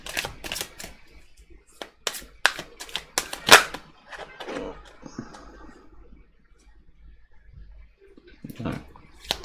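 Tarot cards are shuffled in quick, crisp bursts of riffling and slapping, close and clear, then fade to quieter handling with brief pauses and a few soft taps.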